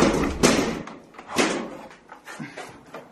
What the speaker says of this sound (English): Should this door open?